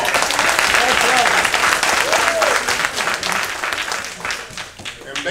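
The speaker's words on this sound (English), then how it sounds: "Let's give you all a round of applause." A crowd at a union stewards' Christmas dinner for IBEW Local 1288 bursts into loud applause, a dense clatter that holds strong and then thins and fades, with some voices mixed into the noise.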